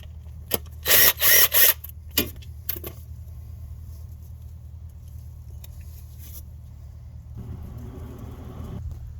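Ratcheting on 10 mm ground bolts under the hood of a 2013-2018 Nissan Altima, a burst of loud close metallic clicks early on, then a few scattered clanks and quiet shop hum.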